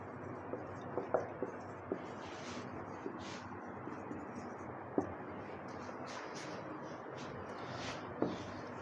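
Chalk or marker writing on a board, with faint, scratchy strokes and occasional light taps in short bursts against a soft room hiss, with no speech.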